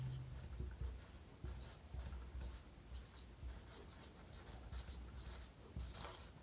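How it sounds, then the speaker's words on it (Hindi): Pen writing on paper during a Hindi-language biology lesson, a steady run of quiet scratchy strokes in short bursts, close and faint, with little else around it. "इसमें अगला पॉइंट लिखेंगे"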